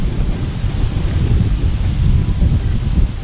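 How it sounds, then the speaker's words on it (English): Strong wind howls and buffets across an open campsite in the wild ahead of an approaching storm, a loud continuous roar with rumbling gusts and no voices. "the wind is howling and there's a bit of a storm coming"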